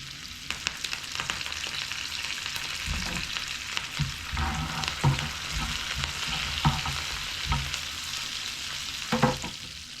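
Green chillies and curry leaves frying in a pan over medium flame for a curry, giving a steady crackling sizzle with brief louder spits and pops, close and without talk.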